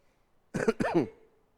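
Someone gives a short double cough, close by and fairly quiet, in an otherwise silent moment.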